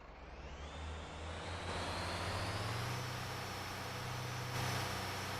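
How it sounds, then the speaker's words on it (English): Road train truck engine in the driving game Motor Town, a steady loud low drone with a rising whine as the revs climb, running on its own without talk. "Why is my truck making so much noise?"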